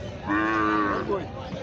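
A cow moos once, a loud, drawn-out bellow rising and falling at a busy cattle market before Eid al-Adha, close and clear above a low crowd murmur.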